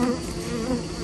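Honeybees defending a hive against hornets make a dense, steady insect buzz, close and continuous with no talking.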